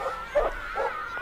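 A dog barking in a recording: a few short yelping barks spaced apart, close-up, with no talking.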